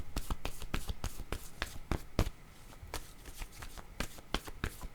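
Playing cards are handled close up in a long run of crisp, rapid riffles and snaps that repeat at a brisk, uneven rhythm, with no talking.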